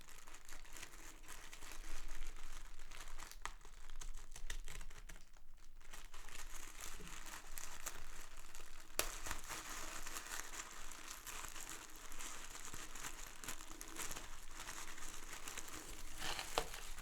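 A big plastic pack from a subscription craft box being carefully cut open, with steady close crinkling and rustling of plastic that continues throughout, a brief quieter dip, and soft tearing and crackle.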